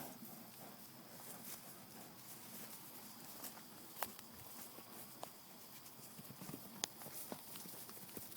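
Hooves clip-clop in a steady walking rhythm over a low outdoor background, with a few sharper knocks standing out.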